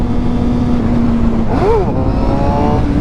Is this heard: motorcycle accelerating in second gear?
yes